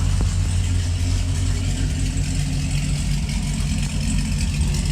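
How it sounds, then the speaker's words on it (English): Chevy SS V8 with long tube headers and no catalytic converters idles warm, giving a steady, deep, throbbing rumble that holds even and loud throughout without revving; no talking. "Let you guys hear it, how it sounds after the engine's warmed up a little bit."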